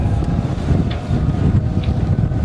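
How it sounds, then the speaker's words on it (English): Strong northerly wind blows across a sailing anchorage, a constant low rumbling buffet on the microphone with no break and no speech. "The northerly winds right now."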